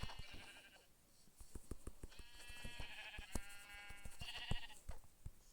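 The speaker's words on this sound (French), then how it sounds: "alors on fout les 3 moutons" Sheep bleat repeatedly in a hardcore survival video game, several overlapping calls of varying pitch against a backdrop of sharp clicks, steady and fairly close with no talking.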